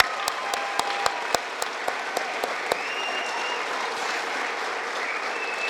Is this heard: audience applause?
yes